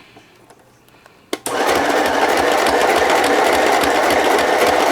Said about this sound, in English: I'm going to turn the crank myself just to get it started.